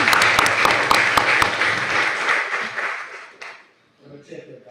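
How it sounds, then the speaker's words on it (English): Meeting attendees applaud board members: dense, close clapping from a room of people with sharp individual claps, fading out after about three seconds, then a brief voice afterward. "Let's give them a round of applause."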